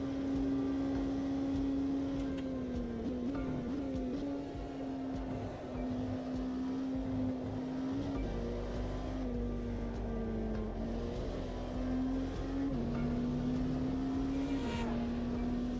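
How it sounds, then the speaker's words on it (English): Racing car engine in the Automobilista 2 sim racing game, a steady droning hum that wavers slightly in pitch across the whole stretch, moderately quiet and with no talking. "Why do we get to hear a car as we go over that section?"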